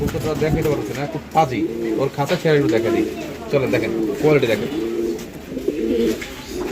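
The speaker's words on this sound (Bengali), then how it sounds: "স্পেশালি নটটার ডাকটা কিন্তু অসাধারণ আপনারা দেখতে পাচ্ছেন ভরপুর ডাকের কবুতর" Pigeons cooing in a loft, repeated low throaty coos close by, with someone talking over them much of the time.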